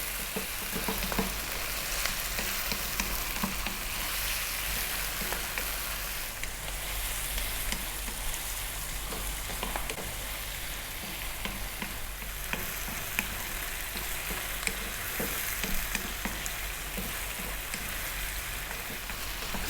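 Sliced red onion frying over medium heat in a pan for a beef mushroom curry, a steady dense sizzle running throughout with faint stirring scrapes, close up and with no talking.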